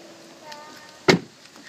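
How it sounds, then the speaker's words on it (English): A mechanical door release on a Tesla Model S with a dead 12-volt battery unlocks the front door with a single sharp clunk, close and fairly loud, after a short stretch of quiet. "there's actually a mechanical release that will unlock"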